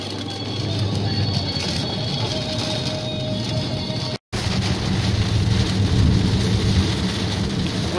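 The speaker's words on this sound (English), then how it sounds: "Once again, lots of rain." Heavy rain pours steadily in Kamloops during an August hailstorm, a dense continuous hiss and patter that cuts out for an instant and resumes just as loud.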